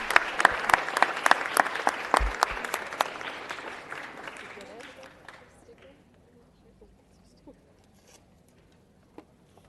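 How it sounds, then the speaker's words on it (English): Applause breaks out at a city council meeting, a crowd clapping loudly for about five seconds before it thins and fades, leaving a quiet room with scattered faint sounds. "Please give them a round of applause."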